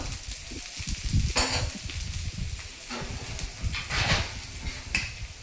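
Thalipeeth sizzling on a hot tawa, with oil drizzled around its edge: a steady close crackle and hiss that swells in several brief bursts, with no talking.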